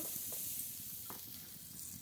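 Mustard oil with salt and turmeric sizzling in a wok before shrimp go in, a steady close hiss throughout with a few soft stirring clicks, no voices.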